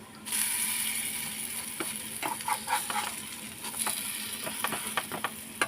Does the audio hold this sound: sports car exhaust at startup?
no